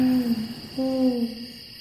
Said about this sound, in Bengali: রাতের গভীর নিস্তব্ধতা ভেঙে শুধু প্যাঁচা ডাকছে